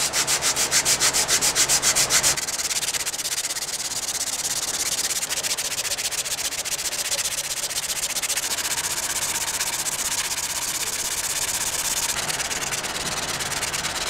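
Continuous abrasive sanding on the handle of a D-guard bolo knife. It opens with a couple of seconds of quick rhythmic strokes, then settles into a steady, close, fairly loud rasping hiss.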